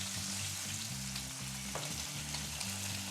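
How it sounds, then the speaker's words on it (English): NY strip steaks fry in a pan with a constant, close sizzle, steady and fairly quiet under a low background hum, without talk. "Frying steaks, I love it."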